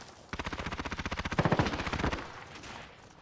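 Automatic gunfire from Call of Duty Warzone gameplay: a rapid, steady burst of close, loud shots lasting about two seconds, then a short trailing tail as the firing stops.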